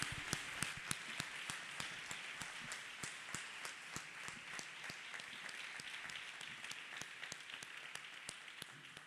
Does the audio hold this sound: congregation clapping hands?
yes